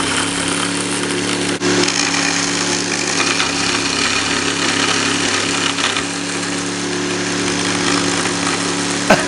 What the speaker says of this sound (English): So we'll just turn this baby on and finish off cutting these dovetails right here.